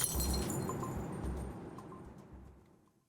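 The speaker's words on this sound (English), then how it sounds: "as you hear again this shattering glass" A glass-shattering sound effect plays: an initial crash of breaking glass followed by scattered tinkling shards and clinks that fade away over about three seconds, quiet overall.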